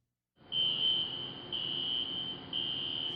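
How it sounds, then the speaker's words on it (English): A CO2 fire suppression system alarm near the riser or burner at a cement plant's coke mill sounds as a steady, piercing high electronic tone in three pulses, loud and alone over a low hum. "If you hear this alarm, back away from the riser or burner"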